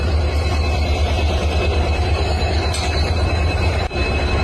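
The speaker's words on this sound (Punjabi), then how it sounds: "ਆ ਗਈ ਆਪਣੀ ਟ੍ਰੇਨ" The Farakka Express rolls into the platform close by with a heavy low rumble, wheels squealing faintly over the continuous roar of the rail cars.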